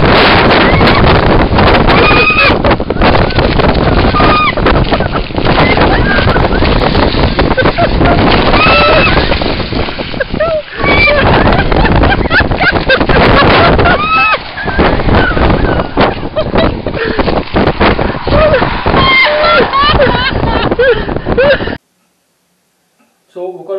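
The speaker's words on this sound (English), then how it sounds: "it's so windy that you cannot use an umbrella" Loud, roaring stormy wind buffets the microphone continuously, with voices and other outdoor noise partly buried beneath the gusts.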